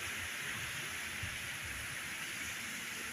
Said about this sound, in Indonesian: Jakarta diguyur hujan gede banget guys.